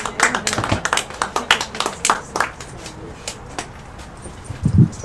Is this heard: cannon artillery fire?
no